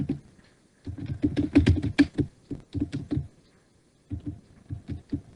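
Computer keyboard keys being typed in quick irregular bursts while entering a project name in Microsoft Project, fairly close and clear, with a pause mid-way before a final run of keystrokes; no talking.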